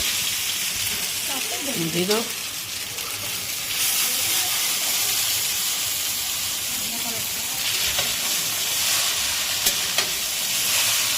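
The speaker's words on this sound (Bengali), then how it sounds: "প্রথমে আমরা তেলে এই চাউমিনটাকে ভেজে নিচ্ছি" Boiled chow mein noodles fry in hot oil, a steady close hiss and sizzle that runs throughout with a few faint clinks and scrapes, and no talking.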